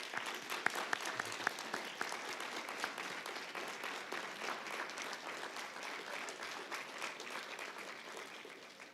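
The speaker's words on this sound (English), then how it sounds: "give a round of applause to them" A seated crowd at a medical school white coat ceremony claps for friends and family in a dense, even wash of applause, heard from a distance and fading out at the end.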